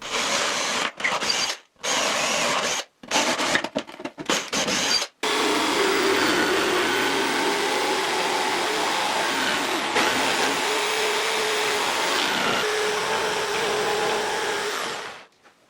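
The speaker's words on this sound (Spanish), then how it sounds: "Utilizo la sierra de calar para cortar el hueco interior." A jigsaw cuts the inner hole of a router table insert plate, first in short choppy bursts with gaps, then a steady, loud, continuous buzzing cut of about ten seconds that stops abruptly.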